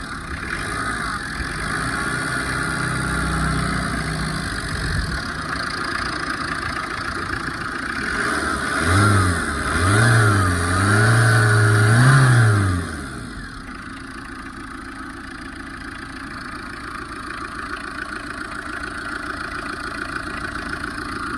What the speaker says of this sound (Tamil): இந்த இண்டிகாவோட இன்ஜினை வந்து பார்த்தீங்கன்னா நான் ஸ்டார்ட் பண்ணிட்டேன்